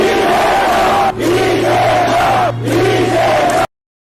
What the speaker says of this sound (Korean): 박수가 나오는 연설이죠